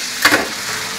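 A fish fillet fries in hot oil with a close, steady sizzle. A brief louder crackling burst comes near the start, and no voices are heard.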